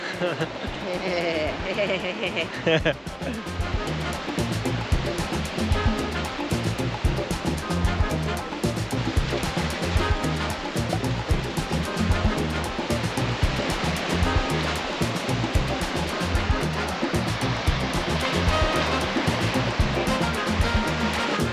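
Sea waves break along the rocky coast of Crete, where the water shades from green to turquoise, making a loud, continuous rushing surf that stays steady throughout.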